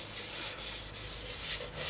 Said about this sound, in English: I'm going to knock it back with the 600, and then I'm going to hit it with my sanding paste